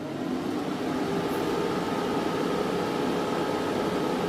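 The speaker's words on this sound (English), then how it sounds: "let me get you an example here of how much airflow that fan's kicking out. Okay, turn that on." A cooling fan on a Chinese mini skid blows air with a steady, close, loud whooshing hum and a faint mechanical drone underneath, running evenly throughout with no speech.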